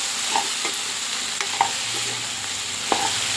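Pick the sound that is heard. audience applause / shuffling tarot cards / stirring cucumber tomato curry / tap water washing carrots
stirring cucumber tomato curry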